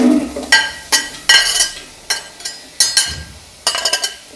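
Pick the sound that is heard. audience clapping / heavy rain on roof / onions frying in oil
onions frying in oil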